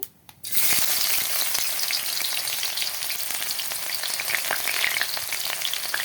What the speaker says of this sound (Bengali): তেল গরম হয়ে গেছে এবার দিয়ে দেব পেঁয়াজ কুচি